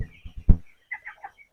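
A sick poultry-farm chicken with fluid in its belly gives a few short, close clucks, then a quieter burst of soft, throaty chatter.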